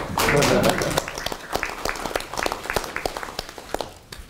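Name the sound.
applause for reinstated journalists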